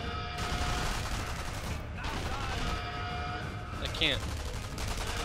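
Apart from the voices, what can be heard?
gunfire in the video game Sniper Elite V2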